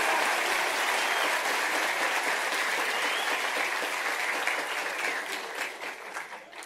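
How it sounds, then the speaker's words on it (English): A conference audience claps in sustained applause, loud and dense at first, then thinning and fading toward the end. "So, a round of applause for them."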